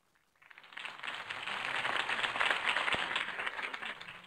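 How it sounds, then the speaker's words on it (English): Crowd applauding after a mayoral campaign speech in the Batman Telltale video game, swelling in from silence into a broad, steady roar of clapping that sounds somewhat distant and soft. "If only Mr. Wayne, my campaign's largest backer, could have heard that applause"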